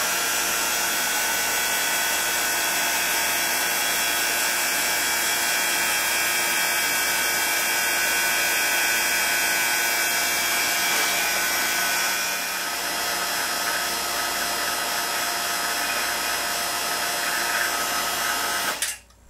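A vacuum pump drawing a vacuum on Pentacryl resin in small clear cups runs with a loud, steady, high-pitched whine and hum throughout, dipping briefly midway before cutting off abruptly at the end, with no talk.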